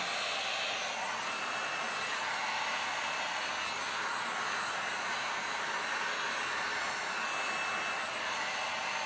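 A heat tool blows a steady, even hiss of hot air over a metal sublimation tray, continuous and fairly close, with no talk.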